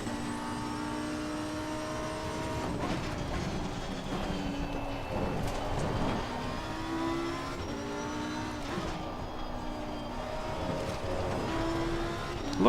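A race car engine under heavy throttle in the sim racing game Pitskill.io, roaring steadily with repeated rev rises and gear shifts and a hint of tire squeal, loud and continuous.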